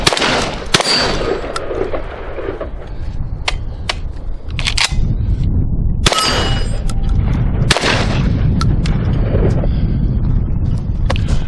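A Citadel Boss Hog 12 gauge shotgun fires several loud, sharp rounds outdoors at irregular intervals, each blast followed by a brief metallic clatter of the action cycling.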